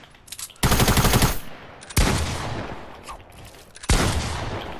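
Gunfire in a video game firefight while third-partying another squad: a long automatic burst followed by two more loud, sharp bursts with ringing decay, close and dominant, no talk.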